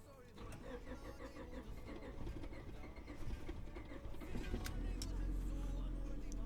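An EK Civic hatchback engine, sitting five years with 103,000 miles, cranks with a rapid rhythmic churn, then catches and settles into a louder steady low rumble, close and under a quiet voice.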